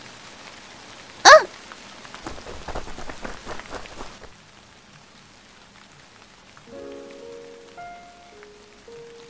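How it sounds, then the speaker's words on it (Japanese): Rain falling during a night out for fireworks, a soft steady patter on surfaces running for several seconds after a sharp sound, then fading beneath quiet musical tones. "雨が降ってきた。"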